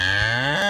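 A single loud, close cow moo, deep and drawn out with a slight rise at the end, in a cartoon-style animated comedy, heard alone without speech.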